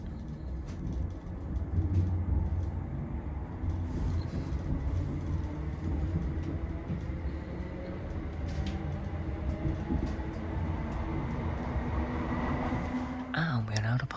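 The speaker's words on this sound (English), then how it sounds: "And we are now departing Bridgeton." A Glasgow train pulls out of Bridgeton station with a steady low rumble and rising whine as it gathers speed, close and continuous, with faint voices in the background.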